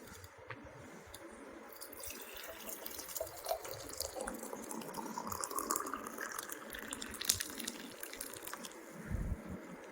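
Water in an electric kettle just off the boil, a steady fizzing, crackling bubble texture with scattered pops and drips, close up and fairly faint, no talking.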